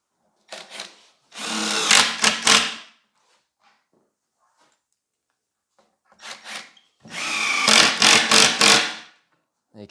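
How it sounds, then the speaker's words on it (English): A cordless drill drives screws into a wooden wardrobe carcass in two separate bursts, each a short whir before a longer grinding run as the screw bites into the wood, with quiet pauses between them. "You can use any drill to put those screws in, a combi."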